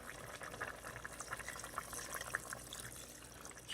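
Thickener liquid being poured into chop suey in an Instant Pot, a soft continuous watery pour and splash that runs steadily throughout with no talk.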